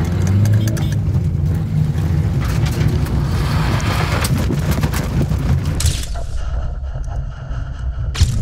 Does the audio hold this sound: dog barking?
no